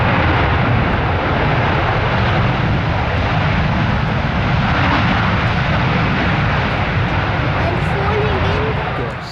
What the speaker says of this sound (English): it's the Asiana 747-400